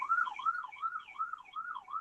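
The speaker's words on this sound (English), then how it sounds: "as the sirens go by" An emergency siren passes by outside on a city street, its wailing tone rising and falling in a steady repeating cycle, clear and continuous with no voices.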